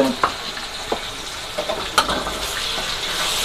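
Turmeric-spiced intestines sizzle loudly in a pan while a utensil stirs them, with scattered clacks and scrapes against the pan over a constant frying hiss, close up.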